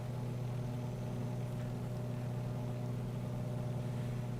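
A steady, droning aircraft engine hum from Microsoft Flight Simulator 2024 runs continuously at an even level, with no voices over it.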